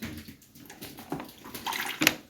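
Water floods a home from a broken pipe line, a continuous rushing and splashing flow close by with occasional sharper splashes and gurgles.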